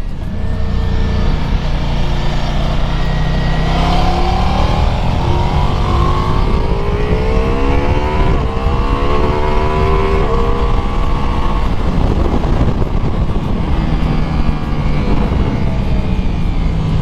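A 2021 Ducati Multistrada V4S engine roars loudly and continuously as it speeds along a race track, pitch rising and falling through gear changes, with no talking.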